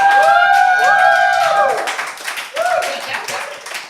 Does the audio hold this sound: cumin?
no